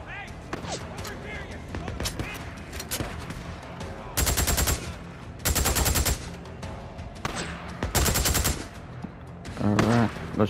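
Bursts of automatic gunfire in the Days Gone video game, several loud sustained volleys spaced a second or two apart, with someone talking between them over game background sound.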